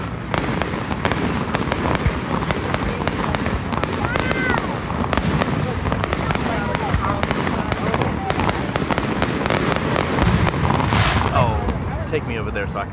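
Rapid, crackling bursts of Fourth of July fireworks pop and bang continuously, with some whistling streaks, loud and close, while people talk and shout underneath.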